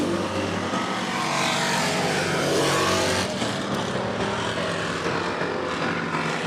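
Race cars roar around the 105 Speedway oval, a loud sustained engine drone that swells and fades slightly as the pack passes, with no voices.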